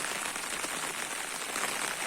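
Steady rain falls outdoors, a dense, even hiss of drops striking the ground and surfaces, moderately loud and unbroken, with no voices.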